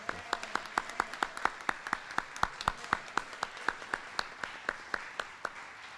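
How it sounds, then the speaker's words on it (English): Applause at a Canton, Massachusetts summer town meeting for public safety staff. A small crowd claps steadily at close range, with sharp, evenly spaced claps that carry on through the stretch, and no voices over them. "I think we all should give them a round of applause and appreciation for that."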